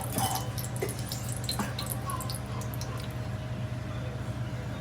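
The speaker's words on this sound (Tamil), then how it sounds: "அதுக்கு பிறகு எண்ணெய் கொஞ்சம் ஊற்றுறோம்." Cooking oil poured into a pot for Tamil Nadu style chicken dum biryani makes a soft, continuous wet trickle with scattered faint drips and splashes, heard close and without talking.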